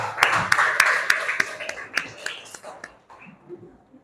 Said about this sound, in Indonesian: Tepuk tangan untuk kelompok yang A.